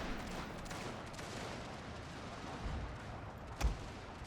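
Gunfire in a war strategy video game battle against Chinese forces: a dense, distant rattle of shots with a sharper heavy report near the end, no talk.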